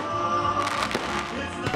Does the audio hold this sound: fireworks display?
yes